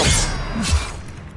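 Expelliarmus spell effect in the video game Hogwarts Legacy: a bright whooshing burst opens into a heavy impact thud partway through, then trails off into a fading shimmer.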